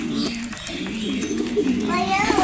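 Pet pigeons in a backyard loft coo in low, rolling calls that go on throughout, mixed with a voice and other talk.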